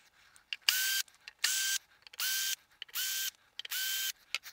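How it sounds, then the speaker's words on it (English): Five steady bursts of a powered screwdriver or ratchet, each about half a second with a whirring whine, as screws are backed out of the woofer of an SVS Ultra Evolution bookshelf speaker during a teardown. Close and fairly loud, with short pauses between bursts. "as soon as you get the screws out, the woofer wants to pop out on its own"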